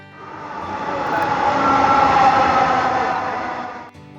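Elevated metro rail train in Dhaka arriving at a platform, a rising rumbling roar with a whining tone that swells to a peak, holds, then eases off abruptly, with no talking.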